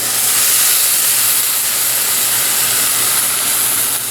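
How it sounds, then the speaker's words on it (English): A whole can of tomatoes hits a hot pan, producing a loud, even, steam-like hiss that holds steady without a break. "Time for the tomatoes. The whole can goes right in."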